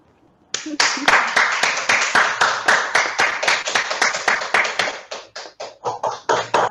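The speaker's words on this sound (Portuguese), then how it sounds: "para a gente dar uma salva de palmas para os autores" A small group clapping together for authors at an online book launch, steady quick claps that thin out toward the end, slightly compressed and uneven as if over a video call.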